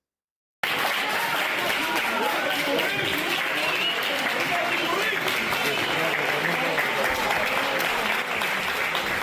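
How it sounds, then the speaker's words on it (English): Loud, sustained applause from a crowd, dense clapping starting abruptly and continuing steadily throughout, with some voices mixed in. "Here they are receiving a round of applause at the courthouse"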